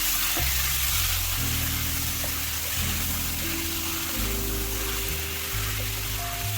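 Chicken sautéing in a pan for a Kerala-style chicken stew, a loud continuous sizzle and hiss close up with occasional stirring, under steady background music.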